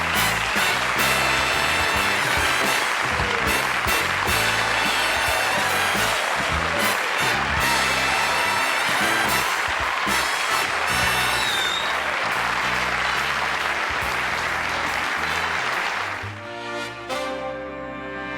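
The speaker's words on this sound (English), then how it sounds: "I'm humbled by that applause." Loud studio audience applause on The Johnny Carson Show for Danny DeVito in 1987, dense sustained clapping with band music underneath, fading out abruptly near the end.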